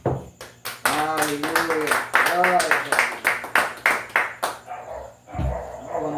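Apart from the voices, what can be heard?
congregation applauding in church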